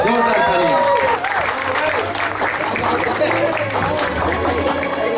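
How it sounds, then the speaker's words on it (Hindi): A large crowd at a wedding applauds loudly and steadily throughout, with music or a voice carrying faintly underneath the clapping. "प्लीज उनके लिए भी जोरदार तालियां।"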